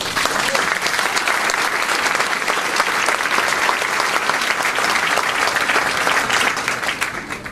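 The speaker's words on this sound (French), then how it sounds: "merci les amis d'être là et d'applaudir notre Premier ministre" Sustained applause from a congress audience of French local officials greeting Prime Minister Édouard Philippe, a dense, steady wall of clapping filling the hall from start to finish before tapering slightly at the end.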